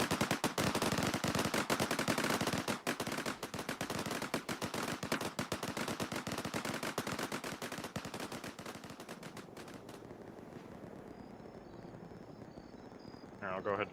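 Ammunition cooking off in Arma 3: a dense, loud crackle of rapid bursts like sustained gunfire for about ten seconds, then thinning to a quieter background.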